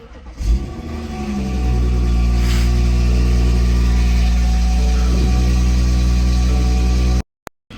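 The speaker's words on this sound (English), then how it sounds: "So I'm going to leave this open, and then I'm going to start it and just let it idle" A BMW G30 540i fires up with a short starter whir and settles into a loud, steady idle that holds for several seconds before cutting off abruptly.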